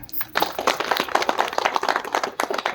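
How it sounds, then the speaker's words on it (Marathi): An audience at a school teachers' felicitation gathering bursts into loud, close applause, a dense crowd clapping that starts abruptly and keeps going steadily to the end. "हे तुमच्यासाठी जोरदार टाळ्या"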